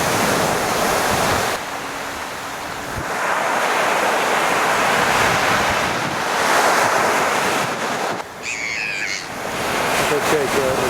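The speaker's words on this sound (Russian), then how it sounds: "Это чайки орут." Loud stormy winter surf pounds the shore at Gelendzhik with heavy wind buffeting, and gulls cry briefly in a short burst of shrill calls near the end, partly masked by the roaring waves.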